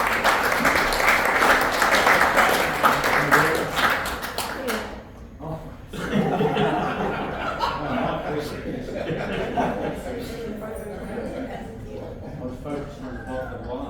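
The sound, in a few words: audience clapping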